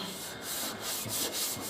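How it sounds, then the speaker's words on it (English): A sanding machine with 80-grit paper gives a soft, steady rasping with a repeating stroke-like rhythm, fairly quiet and close. "After that, I use sanding machine. It's sanding paper grid 80,"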